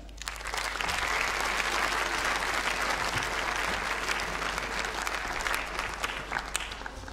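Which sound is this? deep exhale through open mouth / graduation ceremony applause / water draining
graduation ceremony applause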